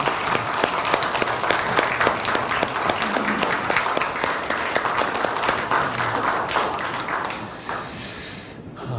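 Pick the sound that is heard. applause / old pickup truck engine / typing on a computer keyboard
applause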